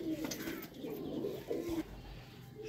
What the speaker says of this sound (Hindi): माशाल्लाह नया कबूतर है।